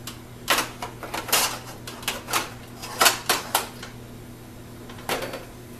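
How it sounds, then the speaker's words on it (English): A metal gravy pan set back onto a stove burner gives several sharp clanks and clatters at irregular intervals, close and distinct over a quiet background hum. "our pan's going to go back on the burner"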